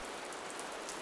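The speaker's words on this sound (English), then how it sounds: "It's the sound of food being fried in a pan." Food frying in a pan, a dense, steady crackling sizzle that sounds much like rain falling on a surface, continuous and fairly close for the full second with no voices.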